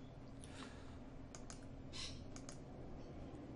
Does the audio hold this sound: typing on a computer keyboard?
yes